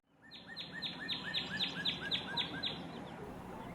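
A northern cardinal sings a fast run of about eight clear, down-slurred whistled notes. The song is moderately distant and faint over a low background rumble.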